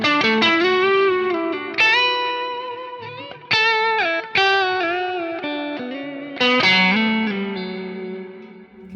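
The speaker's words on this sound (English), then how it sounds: "The way that I dial in this particular Halo sound is you've got the echo, that's that dotted eighth quarter note kind of thing" Electric guitar played through a Keeley Halo Andy Timmons dual echo pedal with a dotted-eighth echo, sustained distorted notes and chords repeating in rhythmic delays that trail off between phrases, loud and clear with no talking.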